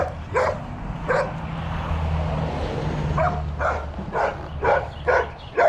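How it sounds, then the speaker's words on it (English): A dog barks repeatedly outdoors on a walk, sharp yips and barks in an uneven series that comes slightly in the distance, over a low rumble of passing traffic. "You probably hear another dog."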